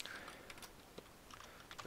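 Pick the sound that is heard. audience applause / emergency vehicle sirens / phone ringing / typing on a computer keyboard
typing on a computer keyboard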